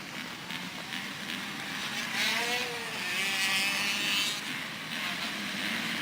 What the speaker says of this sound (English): All right, revs are up,